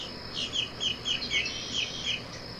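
Birds chirping in quick, bright bursts, a steady series of high tweets repeating about every quarter second over quiet background hiss.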